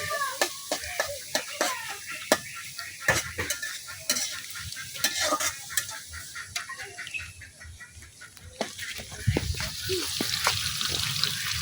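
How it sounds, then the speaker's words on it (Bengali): Salted onions sizzle in a pan over an outdoor fire in wind and rain, with frequent scraping and stirring clatter, a steady hiss underneath, and faint background noise. "লবণ দিলে পেঁয়াজটা তাড়াতাড়ি ভাজা হয়, নরম হয়ে যায় আর কি।"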